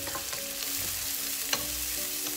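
Chopped onion hisses steadily in hot oil in a pot, a continuous close sizzle with a few soft stirring scrapes.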